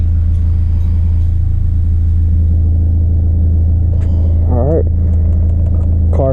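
A 2018 Honda Accord with full bolt-on modifications idles with a loud, steady low rumble close by, a few brief higher sounds breaking in near the end.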